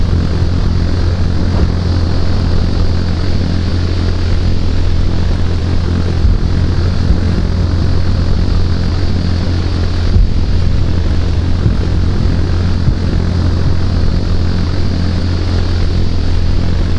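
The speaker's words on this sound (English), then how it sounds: "Helicopter!" A helicopter drones overhead in a steady, loud low rumble with a constant hum that stays even throughout, with no voices.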